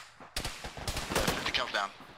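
Heavy .50 cal machine gun fire in a military shooter game, rapid bursts of loud gunshots over a couple of seconds, with a voice speaking over the shooting.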